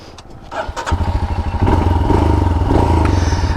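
A KTM Duke 490 motorcycle engine cranks with a few clattering thumps, then catches and settles into a loud, steady idle rumble up close.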